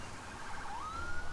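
An emergency vehicle siren in a video game wails with a rising tone, faint and brief against a background hum.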